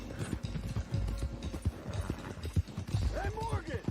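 Arabian horse hooves in the Red Dead Redemption 2 video game, uneven clip-clop steps thudding over a few seconds with a short whinny near the end, while a voice talks over them.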